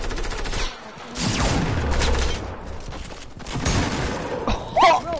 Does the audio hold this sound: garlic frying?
no